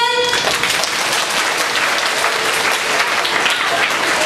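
Sustained applause from an audience at a children's scripture recitation award ceremony, a dense, steady clapping that fills the room for several seconds without pause.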